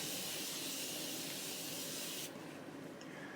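A steady hiss of Morphe Continuous Setting Spray misting a face for about two seconds, then cutting off to a quieter background hush.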